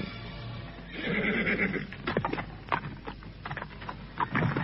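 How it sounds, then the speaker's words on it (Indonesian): A horse neighs loudly and nearby as it approaches, a whinny rising from about one second in, followed by scattered clip-clop hoofbeats and snorts, with no talk over it. "Demikian kuda Mahisa Pranjangan datang mendekat."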